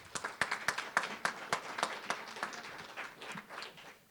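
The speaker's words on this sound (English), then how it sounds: "so please give them a round of applause" Faint, sparse clapping from a small audience at a City of Bastrop forum honoring event sponsors, with individual claps distinct at first and thinning out toward the end.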